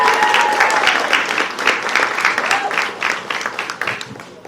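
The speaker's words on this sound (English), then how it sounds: "Let's give her a hand of applause" A crowd at a charity run/walk event applauds a woman named Gabby after her introduction, steady clapping filling the space, with a few whoops and voices mixed in before it thins toward the end.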